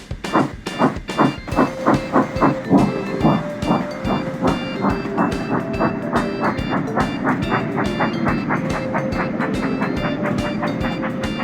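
Thomas the steam engine hauls a goods train, a steady clickety-clack of wheels on rail joints running under a continuous chuffing rumble, with a faint whistle-like tone sustained midway through.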